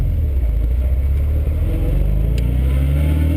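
A 1967 Healey BJ8 MKIII engine pulls away and accelerates on the road, a steady low exhaust rumble heard from onboard, loud and continuous with a slight rise in pitch toward the end.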